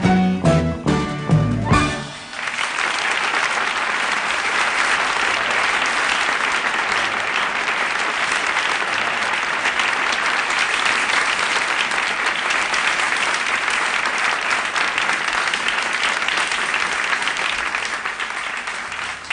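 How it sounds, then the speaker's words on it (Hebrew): Sustained audience applause at a 1977 live concert, opening with a brief burst of musical notes before dense, steady clapping fills the room at full volume and continues unbroken to the end. "מחיאות כפיים במקצוע שלי עוזר מאוד"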